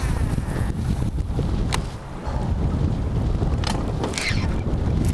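Steady wind gusts across open water beside a pond while bass fishing, a continuous low rushing roar buffeting the microphone, with faint scattered clicks and bumps and no talking.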